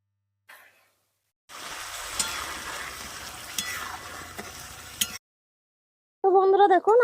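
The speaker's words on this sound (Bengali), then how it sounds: "আবারও ভালো করে লেড়ে নেব।" Coarse-grained sugar stirred with a splash of water in a pan while making a village-style sour, spicy and sweet jujube pickle, a steady scraping, sizzling churn for a few seconds, then silence and a short burst of voice.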